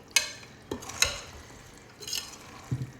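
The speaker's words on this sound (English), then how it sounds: "if you're gentle enough, you can use a spoon and just toss, fold it all together" Tortellini pasta salad tossed and folded with a spoon in a bowl, giving a few soft scraping and clinking stirs spaced apart, close and quiet with no talking.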